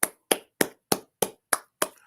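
Seven single sharp claps spaced evenly about a third of a second apart, crisp and close with quick decay, a slow steady rhythm rather than crowd applause.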